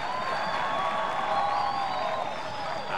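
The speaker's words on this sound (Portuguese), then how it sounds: "Queremos raça, o torcedor paraibano grita." Paraíba supporters in a packed sports arena roar and cheer during a match, a continuous loud crowd din with faint whistles or chant tones running through it for the whole stretch.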